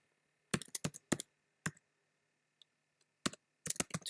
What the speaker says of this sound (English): So we're going to type in